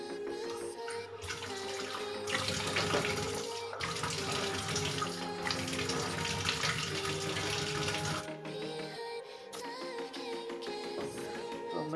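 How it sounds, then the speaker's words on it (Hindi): Tap water pours steadily into a sink for face washing, a continuous splashing rush close by with brief dips as hands move under the stream; no talking. "उससे पहले मुँह धो लेता हूँ।"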